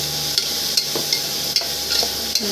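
Onions frying in a little oil in a pan for shavige uppittu, a steady loud sizzle with occasional scraping stirs at regular intervals, close up and without talk.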